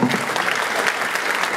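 A crowd at a vogue ball runway event bursts into a short round of applause, dense and lively clapping close by with a few cheers mixed in.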